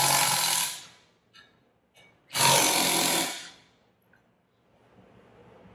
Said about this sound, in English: Then we take off these air chamber bolts.